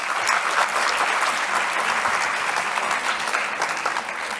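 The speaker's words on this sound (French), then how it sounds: "Donc je vous propose de l'applaudir, Mansouria." An audience at a French eloquence contest applauds steadily, a dense, even wash of clapping throughout with no talk over it.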